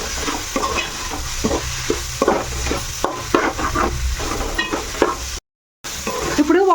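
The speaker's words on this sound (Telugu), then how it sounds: "ఇప్పుడు బాగా కలుపుకోవాలి." Paneer pulao masala with chana dal and garam masala is stirred in a sizzling pan, repeated scraping spoon strokes over steady frying, with a brief silent break near the end.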